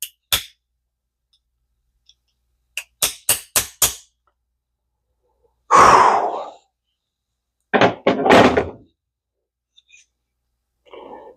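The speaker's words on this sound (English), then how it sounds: "Oh, well, all else fails, get a bigger hammer." Sharp hammer blows striking a metal part of a salty, sandy vintage D.A.M. Quick 440 fishing reel, a quick run of four knocks and then heavier, ringing strikes separated by silence, close and loud.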